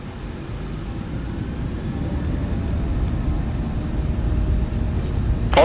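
A Garuda Indonesia 737-800 takes off in Microsoft Flight Simulator, its engines holding a steady, broad rumbling roar that builds slightly toward the end, with no speech over it.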